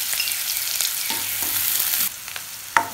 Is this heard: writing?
no